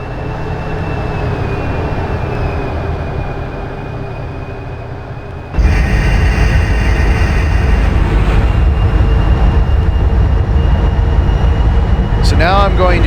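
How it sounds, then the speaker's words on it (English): A PRR V2 locomotive hauling the Santa Fe Express runs on a mainline at partial throttle, with a steady rumbling drone that jumps abruptly louder partway through and keeps roaring, plus a rising whine near the end. "That is an impressive acceleration profile for a mainline train."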